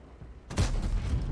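Tank gun firing in World of Tanks during a Steppes clan battle, a single sharp, loud blast after a quiet moment, followed by a heavy rumbling decay.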